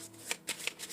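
Tarot cards are shuffled and pulled by hand, a quick run of four crisp riffling bursts close up, with no talking.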